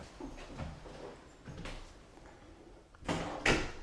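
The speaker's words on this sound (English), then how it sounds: "all you have to do is simply shut the door" A toilet closet door in a Timberline Elite TE32563F Destiny Homes mobile home is pushed shut, giving a couple of sharp, close knocks and thuds near the end after quiet handling sounds.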